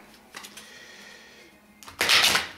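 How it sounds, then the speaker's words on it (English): Tarot cards being shuffled by hand, with a soft riffle near the start, a steady quiet rustle through the middle, and a louder burst of riffling toward the end. "I'm shuffling the cards now"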